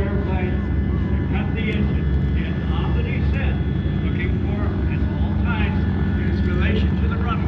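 Vintage aircraft engines at the Reno air races drone in a loud, continuous roar, with voices talking faintly beneath the steady noise.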